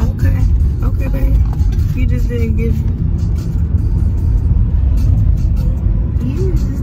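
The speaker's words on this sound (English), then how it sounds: "We are back in the car." Steady low road rumble inside a moving car, loud and continuous throughout, with people talking over the engine and tyre noise.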